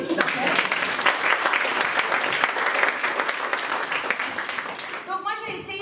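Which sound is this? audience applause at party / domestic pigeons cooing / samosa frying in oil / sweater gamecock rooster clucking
audience applause at party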